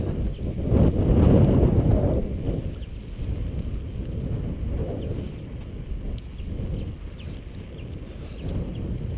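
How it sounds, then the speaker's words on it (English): Strong wind buffets the microphone at a beach, a loud, continuous low rumble that surges early and then settles into steady gusty roaring, with no talk. "This wind."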